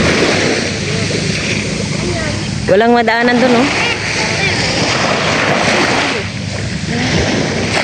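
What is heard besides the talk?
sea waves and wind at high water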